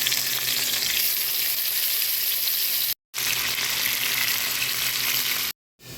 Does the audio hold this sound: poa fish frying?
yes